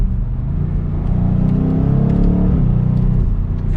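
A 2022 BMW M850i xDrive Gran Coupe accelerates from inside the cabin, its engine note a deep, steady rumble that climbs and eases through paddle-shifted gear changes, with no voices present.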